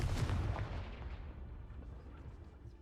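A Confringo blasting spell fires in Hogwarts Legacy, a single heavy boom at the start that rumbles and decays over a couple of seconds, fairly quiet overall.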